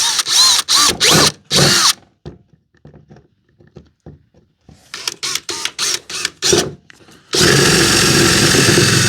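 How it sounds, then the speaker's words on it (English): A power drill whirs in loud bursts, pauses, then revs in short pulses before running steadily and loud at the end, drilling through a plate inside a 2009-2014 Ford F150. "There is a little bit of a plate here, but I can just drill right here."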